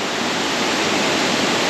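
Sangkhola waterfall roars in a loud, dense, continuous rush of falling water close by, with no other sound over it.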